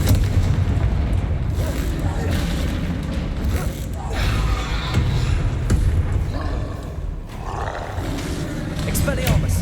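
Blasting spell explosions from Hogwarts Legacy boom repeatedly over a dense, roaring battle din, with heavy low rumble throughout and sharper bursts near the middle and end; a voice speaks amid the noise.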